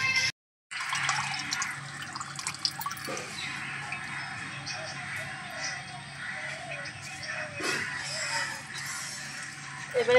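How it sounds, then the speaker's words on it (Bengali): Cold tap water runs over freshly made chhena being rinsed for rasgulla, a steady soft trickle and patter with small drips and splashes, fairly quiet and close. "একটু ঠান্ডা জল দিয়ে ধুয়ে নেব,"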